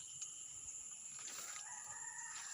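A rooster crows faintly in the distance over a low, steady background hum, one drawn-out call standing alone.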